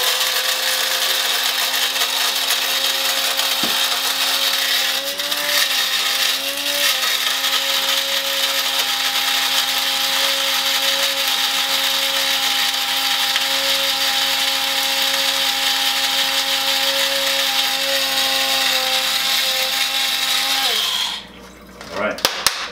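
Coffee beans being ground in an electric grinder, a loud steady whir held for about twenty seconds before cutting off abruptly.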